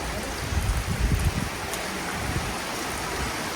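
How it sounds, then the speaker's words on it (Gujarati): Rain falls steadily, making a continuous, even hiss of drops with soft thumps near the start. "મસ્ત મજાનો વરસાદ આવે છે અત્યારે"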